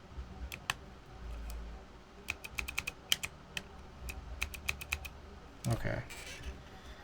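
Typing on a computer keyboard whose spacebar may be warped, heard as sharp, close clicks in irregular bursts over a low background hum, ending in a louder clattering cluster.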